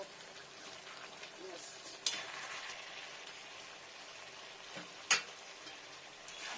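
Spice powder stirred into a pan of raw pumpkin and katla fish-head curry, giving a soft continuous scraping sizzle with two sharper clinks of the spoon against the pan.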